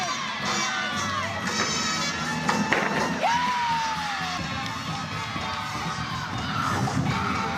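A college gymnastics arena crowd cheers, shouts and whoops in a loud, continuous roar, with high shrill yells rising over the steady noise.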